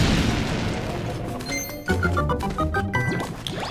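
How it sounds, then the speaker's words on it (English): A bomb blast in Link's Awakening on Switch, a muffled boom followed by bright chiming tones and a short jingle, heard on its own without talk. "Plop down a bomb right there."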